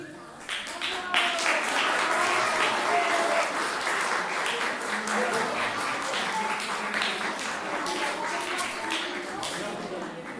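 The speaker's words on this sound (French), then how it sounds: "Ok, ben je crois qu'on peut encore les applaudir bien fort," An audience in Dour claps for performers at a February artistic workshop, sustained dense applause of many hands, close and lively, lasting throughout.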